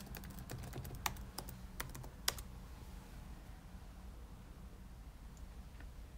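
Typing on a Chromebook keyboard to enter a password, a quick burst of light key clicks in the first couple of seconds, then quiet room hiss with an occasional faint tap.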